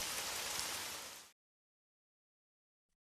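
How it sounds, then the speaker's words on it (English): Steady rainfall hisses loudly as a dense broadband wash for over a second, then cuts off abruptly into silence, with a brief burst returning at the very end. "This is acid rain."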